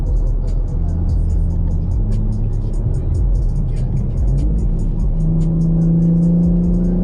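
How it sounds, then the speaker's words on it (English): A 2024 BMW M4 Competition xDrive engine idles and revs with a deep, steady rumble that rises in pitch toward the end, loud and close. "So, but you can hear the car."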